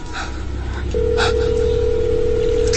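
An unanswered phone call to a sibling gives a steady, continuous ringing tone through the handset, droning on over a low background hiss.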